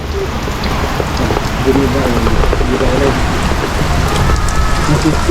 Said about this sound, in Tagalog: lakas ng ulan. Yan, tunay na buhos oh.